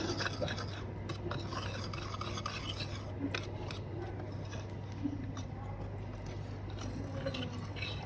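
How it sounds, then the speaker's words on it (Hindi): Ground spices, including garam masala and cumin, are stirred together in a bowl, making soft, continuous scraping and rubbing with light utensil taps. The sound is faint and close over a low steady hum. "इस तमाम मसाले हमने अच्छे से मिक्स करना है"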